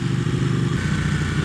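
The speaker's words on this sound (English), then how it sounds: "I can feel this pure raucous engine underneath me." A Ducati 1199 Panigale motorcycle engine runs with a loud, steady, raucous mid-pitched drone heard up close from the rider's position, throbbing evenly throughout.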